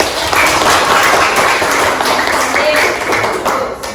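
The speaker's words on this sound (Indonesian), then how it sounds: "Oke, tepuk tangan." A group claps hands together in a lively burst of applause, steady and fairly close for several seconds.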